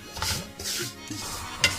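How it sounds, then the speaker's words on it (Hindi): Semolina dry-roasting in a pan for suji halwa is stirred, giving soft, quiet scraping and light rustling strokes with a faint sizzle in the background. "2 कप सूजी डालूंगी और अच्छे से भूनूंगी।"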